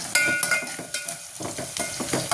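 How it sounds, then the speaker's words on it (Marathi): Onion and ginger garlic paste fry in a pan for dal khichdi, a continuous close sizzle broken by repeated scraping strokes of stirring. "नंतर मग त्यात अद्रक लसूण पेस्ट ॲड करत असते. ही छानशी तळून निघते पहा."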